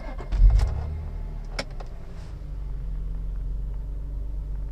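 Rover 800 with a 2.7 litre engine idling, a smooth, creamy low burble that holds steady and even after a brief louder rumble at the start, heard close with no talk.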